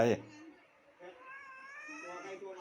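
A pet cat meows in a drawn-out, wavering, rising cry that comes in two close, fairly loud calls after a short sharp noise at the start.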